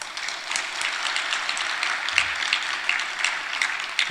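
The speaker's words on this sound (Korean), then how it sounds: "박수 한번 쳐줘요" A church congregation claps for a choir, a bright, continuous ripple of many hands at steady volume, with occasional sharper individual claps standing out.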